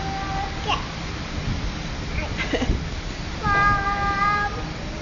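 A cat lets out a clear, drawn-out meow near the end over a steady background hiss, after a few fainter sounds earlier on.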